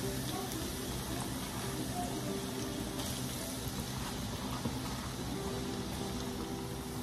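Chopped onion frying in a pan of hot ghee, a steady broadband sizzle that holds evenly from start to finish with no talk over it.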